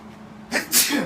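One close sneeze in a quiet indoor conversation, a short intake followed by a sharp, breathy burst.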